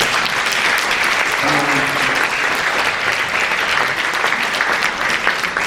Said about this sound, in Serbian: Molim vas, aplauz za vas